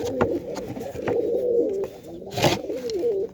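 Pigeons in a cage in a new home coo in soft, repeated low throaty calls, close by, with a few faint chirps and rustles mixed in.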